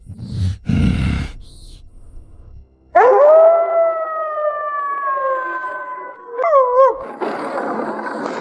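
An animated husky lets out a long, sustained howl that holds steady for several seconds and then wavers at the end, loud and close. Brief rustling thumps come before it, and noisy clatter follows.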